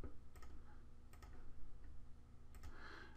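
A few faint, sharp computer mouse clicks while drawing name lettering in Adobe Illustrator, scattered singly and doubled over a quiet room hum.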